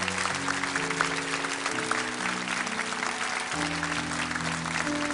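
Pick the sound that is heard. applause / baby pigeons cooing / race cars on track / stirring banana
applause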